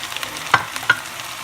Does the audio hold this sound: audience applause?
no